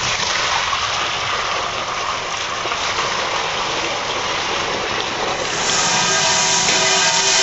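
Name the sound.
pouring bleach water into sink funnel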